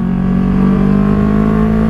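A Kawasaki Z650 motorcycle with an aftermarket exhaust drones loudly and steadily close by, its pitch rising slightly as it accelerates over the short stretch.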